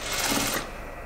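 A sewing machine stitching a garment seam in a short close burst of rapid mechanical whirring that cuts off partway through.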